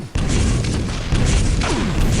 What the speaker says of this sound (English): There's Faz, spamming those rockets, shutting down this choke point.